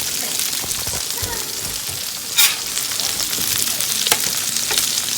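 Patty melts sizzle loudly and steadily on a Blackstone griddle, a dense close frying hiss with scattered pops and one brief louder burst, while voices murmur faintly underneath.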